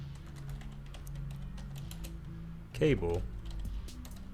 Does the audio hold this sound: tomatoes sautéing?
no